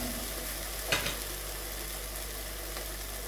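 Steady hot-oil sizzle of vegetables frying with sweet pepper, a continuous close crackle with one brief stir scrape near the start and no talk.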